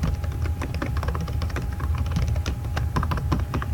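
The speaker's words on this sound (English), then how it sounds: "For this one, I'm just going to type in my name and then another one that I have." Names being typed on a computer keyboard, a rapid uneven run of crisp key clicks at close range, steady and uninterrupted with no talk over it.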